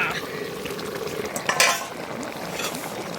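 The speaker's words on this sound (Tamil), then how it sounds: "நாங்கள் நல்லா கிளறி விடுவோம்." Beef curry being stirred in a pot, with a few soft scraping and clinking spoon strokes over a low kitchen hiss and one louder burst of stirring near the middle.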